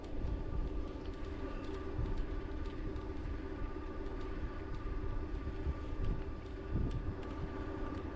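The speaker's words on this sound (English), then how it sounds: "A little breezy, wind coming out of the south, but not bad at all." Steady, breezy south wind buffets outdoors during an e-bike ride, a continuous broadband rush and rumble of wind noise on the microphone with no talking.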